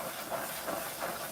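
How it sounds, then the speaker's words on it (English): Steam hisses steadily off hot peanut butter caramel as it is poured and stirred, a soft, continuous close-up hiss with gentle swells and no talking. "And it releases a bunch of steam."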